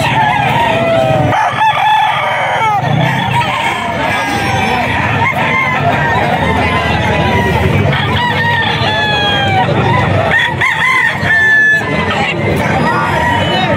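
Chickens and a rooster together, with repeated crowing rising over constant clucking and the calls of other fowl, loud and close, with a murmur of people in the background.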